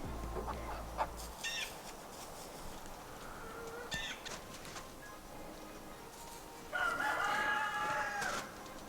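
Hen clucking and calling while scratching the ground for feed, with short bursts of fowl calls near the start and middle and a louder, sustained call toward the end over quiet background noise.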